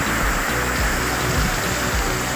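Heavy rain and running water roar loudly and continuously during a long downpour, a dense, close wash of splashing with no pauses.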